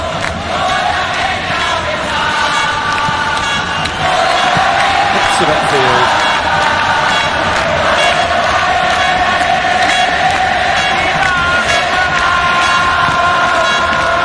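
A loud, continuous roar from a stadium crowd at an Indonesia national team football match swells into cheers beneath a commentator calling the play.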